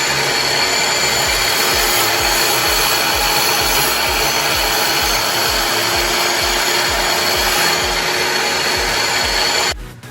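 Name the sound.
wet tile saw diamond blade cutting through dressing stone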